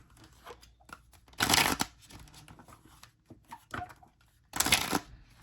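An oracle card deck is riffled and shuffled in two loud bursts, with softer card handling and faint rustling between them.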